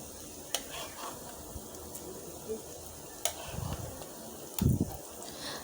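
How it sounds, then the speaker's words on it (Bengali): Fish roe fries in a pan over a very low gas flame. A faint, steady sizzle is punctuated by a few sharp clicks and soft low thumps as the roe is handled. "মোটামুটি এক পাশটা ভাজা হয়ে গেলে আরেক পাশটা করে দিতে হবে।"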